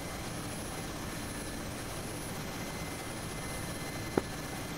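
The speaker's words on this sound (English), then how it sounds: "Left takeoff heading northwest." A military aircraft takes off in a flight simulator game, its engine roar a steady broadband drone throughout, with one brief sharp transient near the end.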